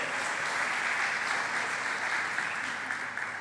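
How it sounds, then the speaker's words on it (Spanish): Church congregation claps loudly and steadily together, a dense continuous wash of applause filling the hall for a few seconds. "Dale un fuerte aplauso al Señor."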